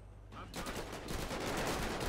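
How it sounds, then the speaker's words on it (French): Rapid bursts of gunfire during a police station raid in GTA 5 with the LSPDFR mod, a dense volley of close shots continuing after a brief quieter moment at the start. "y a des coups de feu, là"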